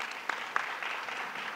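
An audience at a governor's bill signing claps for the cabinet; the applause is fairly faint and distant, a soft continuous patter with a couple of sharper individual claps standing out.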